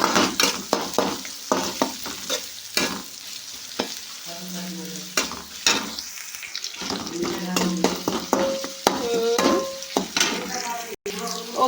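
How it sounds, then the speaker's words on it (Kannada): Curry leaves frying in a pan with onion, giving a continuous close sizzle broken by frequent spoon-against-pan stirring clicks and scrapes. Faint background tones and sounds join in near the end. "ಸ್ವಲ್ಪ ಕೆಂಪು ಆಗಿಬಿಟ್ಟು ಕರಿಬೇವು. ಇವು ಚಂದಕ್ಕೆ ಫ್ರೈ ಮಾಡ್ಕೊಬೇಕು."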